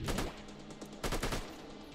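AK-47 fire in a zombie video game, a fast automatic burst of shots at moderate volume, pausing briefly before a second burst.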